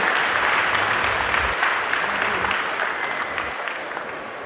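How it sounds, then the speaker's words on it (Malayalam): An audience at a Kudumbashree award ceremony on the Chengannur Saras Mela fair stage breaks into dense, steady applause, loud and sustained throughout and easing slightly toward the end. "ദയവായി ഒരു നല്ല കയ്യടി"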